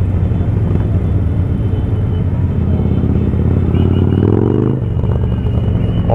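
Several motorcycles with loud exhausts roar close by during a 23 April street motorcade, a dense continuous rumble with rising rev sweeps partway through before it settles back.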